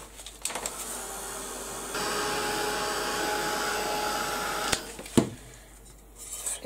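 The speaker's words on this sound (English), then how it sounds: "I'll give that a quick blast with the heat gun and get it dried." A heat gun dries an altered-art wildflower clock craft piece, giving a steady, close blowing whoosh for several seconds before cutting off, followed by a few sharp clicks and handling knocks.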